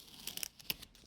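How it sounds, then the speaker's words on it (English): Blue painter's tape is peeled off contact paper for a suncatcher craft, heard as a brief series of quiet, close crackly rips. "we're going to pick up this last little piece of blue tape and"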